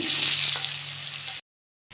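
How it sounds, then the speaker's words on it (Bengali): Cut potatoes fry in hot oil in a kadai with a bay leaf and whole cumin, a steady close sizzle that cuts to silence partway and briefly resumes at the end. "এখন আলুটা কেটে রাখা আলুটা এখন ভেজে নিব আমি।"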